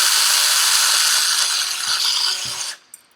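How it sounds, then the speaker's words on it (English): A power drill bores guide holes for posts in a tabletop wargame terrain base, a loud steady whine running about two and a half seconds before cutting off, with a couple of faint knocks afterward. "drilling in my guide holes for the posts"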